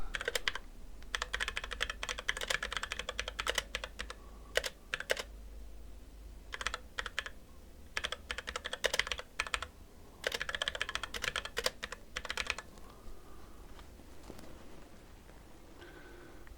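A text prompt is typed on a computer keyboard in close, rapid clattering bursts of keystrokes, separated by short pauses over a low steady hum, with no talking.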